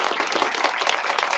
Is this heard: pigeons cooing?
no